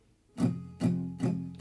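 Three even acoustic guitar downstrokes ring out in a steady rhythm, each a full chord strum, close and clear with no voices.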